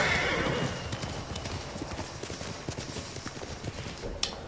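Rhythmic clip-clop of a horse's hooves trotting steadily in the video game Ghost of Tsushima, with a brief whinny at the start and a sharp click near the end.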